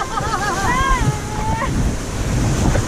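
A theme park water ride boat at Erlebnispark Tripsdrill rushes through a waterfall, producing a steady loud roar of splashing water and wind buffeting, with excited shouts and a rising yell over the torrent.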